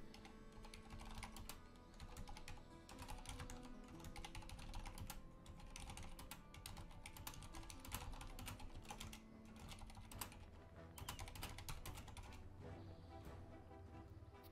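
Dense, continuous keyboard typing for a chat message during a World of Warcraft Rogue session, rapid overlapping keystrokes clattering steadily throughout at moderate loudness with no talk.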